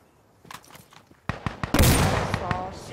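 Gunfire in the World War II shooter Hell Let Loose: a few scattered shots, then a loud close burst of rapid rounds with a rumbling echo that keeps rolling to the end.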